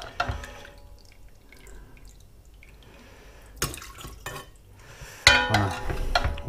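Nearly liquid fish soup passing through a strainer: soft scattered drips and trickles over a quiet background, broken by a few louder clinks and scraping bursts of metal utensils against the pot.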